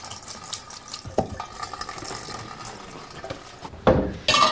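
Running tap water splashes over halved leeks, rinsing grit from between their layers with a steady rushing flow. Louder splashes and clatter come near the end.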